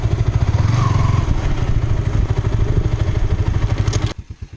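A borrowed Burmese motorcycle's engine runs close and loud with a rapid chugging pulse, then cuts sharply to a quieter idle near the end.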